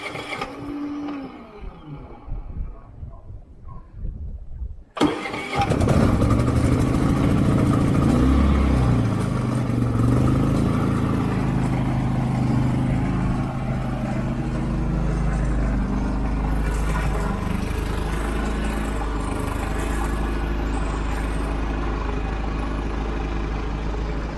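A Harbor Freight 3500 generator cranks at about five seconds after quiet handling noises, then catches and runs steadily, a loud continuous engine drone with low hum that holds evenly to the end.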